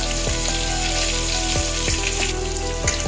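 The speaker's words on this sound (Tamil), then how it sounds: "பச்சை மிளகாய் போட்டு அதே நல்லா வதக்கிக்கணும்" Green chilies and curry leaves sizzle steadily in hot oil in a pan, a continuous close frying hiss broken by a few brief clinks and stirs, with no one talking.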